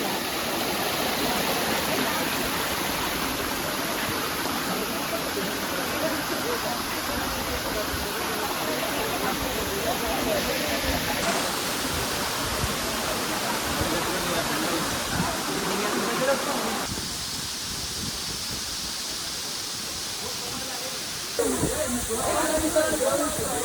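Steady broadband rush of a waterfall in Araku Valley, continuous and fairly loud throughout, with voices talking faintly beneath the roar.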